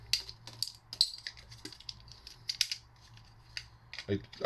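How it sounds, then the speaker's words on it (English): Cutters snipping scrap copper wire, several sharp metallic clicks and snaps at irregular intervals with faint rattling between, close up and moderately quiet. "Let's cut the wire here."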